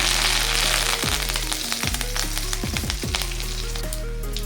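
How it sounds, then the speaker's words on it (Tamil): Mustard seeds spluttering in hot oil with dried red chillies and curry leaves for a South Indian murungai keerai poriyal, a steady loud sizzle with sharp popping crackles scattered throughout, over a low steady hum and faint music. "கடுகு பொரிஞ்சதும் காஞ்ச மிளகாய் சேர்த்துக்கலாம்"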